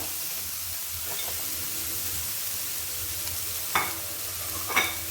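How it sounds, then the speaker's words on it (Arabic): Chopped onion added to heated oil in a pan for savory crepe filling, giving a steady broad sizzle with soft stirring scrapes and a couple of louder clinks near the end, no talk. "من بعد ما كتسخن الزيت غنديرو البصله"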